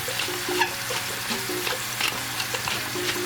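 Thin shaved ribeye sizzles steadily in a hot pan, a close, continuous frying hiss with occasional stirring scrapes and no talking.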